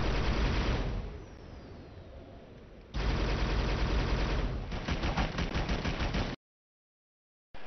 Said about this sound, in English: It's the machine gun.